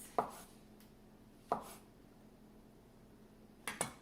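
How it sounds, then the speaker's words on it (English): A knife slicing through mushroom caps on a cutting board, three sharp, separate cuts spaced apart against near-silence, quiet and close. "I'm just going to cut them in slices"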